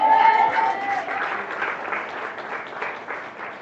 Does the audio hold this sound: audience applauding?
yes